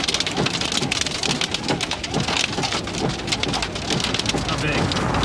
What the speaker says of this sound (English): Pretty small hail here.